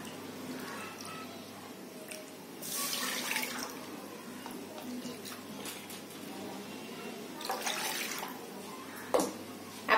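Water is poured into a kadhai for semolina sheera, a trickling splash with a couple of louder surges and a final drip, fairly close and quiet.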